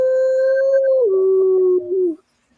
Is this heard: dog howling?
yes